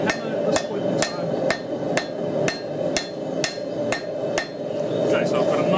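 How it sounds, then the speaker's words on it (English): Hot steel being forged into a knife takes sharp, ringing hammer blows at a steady rhythm of about two per second, about a dozen strikes over a constant hum of shop noise. "I'm opting to just use my hammer at this point in time"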